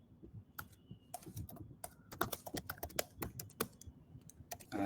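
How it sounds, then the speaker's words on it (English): Someone types on a computer keyboard at a quick, irregular pace: a close run of crisp key clicks with short pauses and no talking. "So I'm going to write some random text here."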